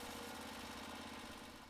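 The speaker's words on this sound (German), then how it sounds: "Die gewerbliche 16 PS Briggs & Stratton V-Twin Motor ist Standard." A 16 hp Briggs & Stratton V-Twin commercial engine on a Norwood LumberPro HD36 portable band sawmill runs steadily at a loud, even drone, with no voices over it.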